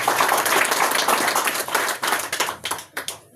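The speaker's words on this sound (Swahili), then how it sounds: "Mpe Yesu ngome leo makofi" A church congregation in Kenya claps during a sermon with brisk, crowded handclaps close by. The claps thin into a few scattered, separate claps toward the end.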